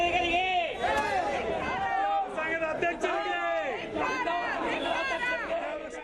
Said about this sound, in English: A battle of slogans.